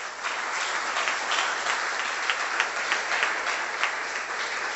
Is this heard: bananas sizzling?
no